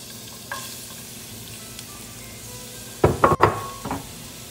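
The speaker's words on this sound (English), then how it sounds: "Into our preheated pan, we're gonna put some olive oil. And into this, we will put the onions." Onions dropping into olive oil in a preheated pan for spaghetti with red drum, a steady frying hiss with a few louder crackling bursts of sizzle near the end, close and clear with no talk.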